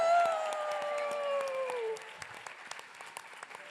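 Applause and whoops for graduates at an award ceremony: clapping with rising cheers and a sustained vocal cheer at first, thinning into scattered claps by the end.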